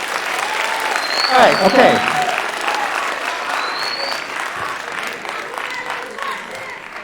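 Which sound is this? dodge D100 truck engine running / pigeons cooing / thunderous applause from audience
thunderous applause from audience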